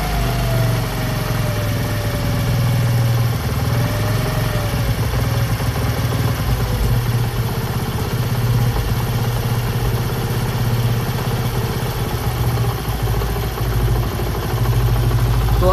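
A small motorcycle engine idles steadily and loudly nearby after its carburetor mixture is turned down, holding an even, buzzing drone the whole time, with no voices.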